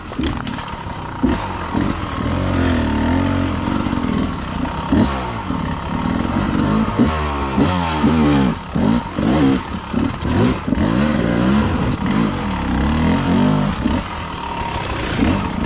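A dirt bike engine runs close by, loud and rough, rising and falling through repeated throttle revs with a rattly chainsaw-like buzz and no talk.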